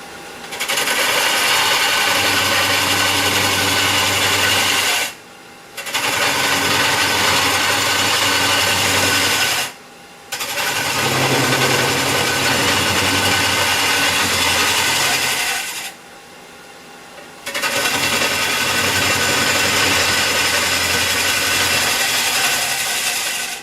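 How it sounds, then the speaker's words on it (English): Wood being hollowed on a lathe with a Kobra deep hollowing boring bar, a loud continuous whirring scrape with a steady motor hum, cutting in long runs broken by three brief pauses before resuming. "We'll come back to the camera when I get some more of this hollowed out."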